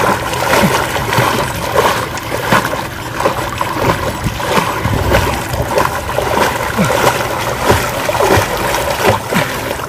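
Water splashing from steady leg kicks of a swimmer on their back, a continuous churning of close, loud splashes with rhythmic bursts, while someone talks over it.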